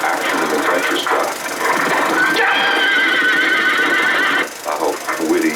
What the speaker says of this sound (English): They're attacked by horses, trapped in the stable.